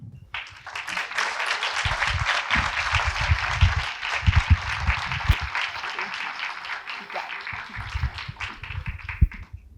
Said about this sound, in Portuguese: Vamos receber com palmas o nosso convidado de hoje